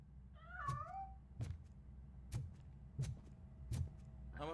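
A cat meows in the RoboCop Rogue City video game, one wavering meow near the start and another at the end, between repeated sharp mechanical thuds over a low steady hum.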